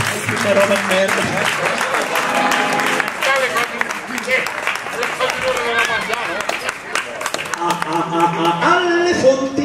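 A crowd claps and applauds steadily throughout, a dense patter of many hands, while people talk and sing loudly over it.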